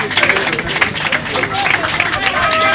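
A crowd cheers and claps continuously at a lottery prize announcement, a dense roar of applause and shouting voices filling the whole stretch.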